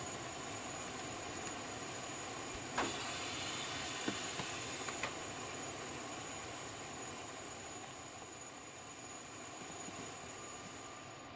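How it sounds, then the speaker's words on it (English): The APU of a Challenger 650 jet in a flight simulator game runs as a loud, steady roaring hiss with a high whine, with a few brief clicks and a short brighter burst of hiss early on. "And the APU is loud as all hell."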